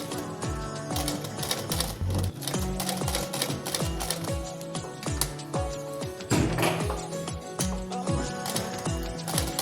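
A sewing machine stitches fabric around a neck pattern, loud and close, its rapid mechanical needle chatter running steadily with brief changes in pace.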